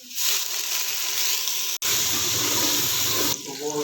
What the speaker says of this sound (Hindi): अब हम इसमें थोड़ा सा पानी शामिल करेंगे।